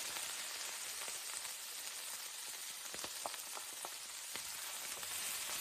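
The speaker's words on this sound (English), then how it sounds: "And we're going to stir fry this for about 1 to 2 minutes." Cubed green cabbage stir-fries in a hot wok for spicy pork, giving a steady, soft, dense sizzle with scattered light crackles and pops throughout.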